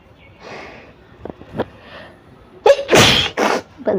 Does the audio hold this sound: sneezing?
yes